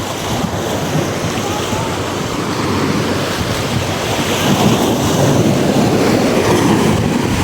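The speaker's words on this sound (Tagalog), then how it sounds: "Hinahampas ng alon" Waves crash on a sandy shore at Dagupan, Pangasinan, a loud continuous roar of surf that rises and swells slightly toward the end, with no voices heard.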